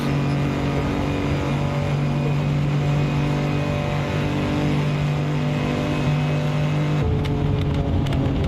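A Lamborghini engine runs steadily in the racing game Assetto Corsa, a loud continuous drone with strong harmonics. It holds a sustained note throughout, shifting slightly near the end, with no voices over it.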